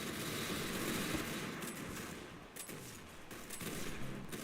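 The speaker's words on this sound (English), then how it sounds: "Oh, I hate the DB shotgun. So damn inaccurate." Rapid gunfire from a double-barrel shotgun in a video game, dense bursts layered over continuous game noise, moderately loud and without a clear gap.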